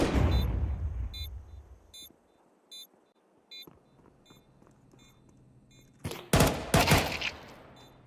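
Pistol shots in a professional Counter-Strike match at an esports event, a heavy blast first, then scattered faint beeps and taps, and a quick cluster of sharp shots near the end.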